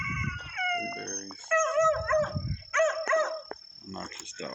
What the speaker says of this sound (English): Obnoxious dog.